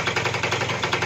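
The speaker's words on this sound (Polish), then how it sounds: "Teraz motorek pracuje jeszcze." A small two-stroke engine with an adjusted carburetor and throttle runs steadily and fairly loudly, its rapid pulsing drone continuous throughout the brief moment with no talking.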